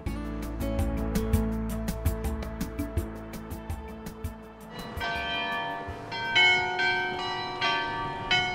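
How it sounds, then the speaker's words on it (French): A fifty-bell carillon atop a 47-metre town belfry in the Hauts-de-France rings out, a steady stream of overlapping bell strikes, with a new, brighter run of chimes coming in partway through and carrying on to the end. "Au sommet, son carillon est exceptionnel. Avec ses 50 cloches à l'extérieur de la tour, il s'entend à des kilomètres à la ronde."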